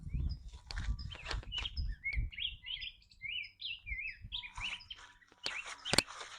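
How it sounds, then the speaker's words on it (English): A bird sings outdoors in a series of bright, repeated chirping phrases, fairly close and clear, with intermittent rustling and handling noises around it. "That bird sounds awesome."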